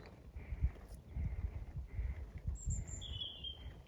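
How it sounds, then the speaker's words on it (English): A robin sings outdoors in spring near a lake in Killarney National Park, giving faint, thin whistled phrases that repeat at intervals over a low rumbling background. "That's a robin."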